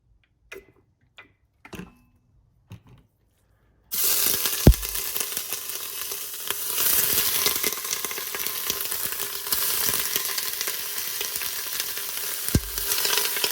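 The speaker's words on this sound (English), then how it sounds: "First up, saute the meat and the onions. I got saute going right now." Sparse clinks of utensils give way to a steady, loud sizzle as meat and onions sauté in hot cooking oil for beef stew, broken by a couple of sharp knocks.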